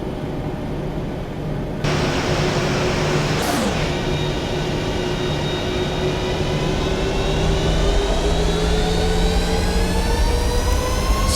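Jet2 airliner engines in a flight simulator spool up to takeoff thrust on runway 04 at Stansted, a loud, steady roar with a rising whine that climbs in pitch over several seconds.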